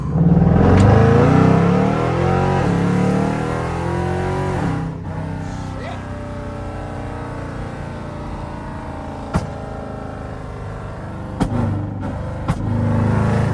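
A modified Jeep with a 5.7 engine, driven at night, revs hard and then settles into a steady rumble, with several sharp exhaust pops and cracks near the end, heard from inside the vehicle.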